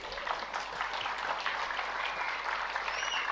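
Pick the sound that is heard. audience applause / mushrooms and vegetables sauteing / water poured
audience applause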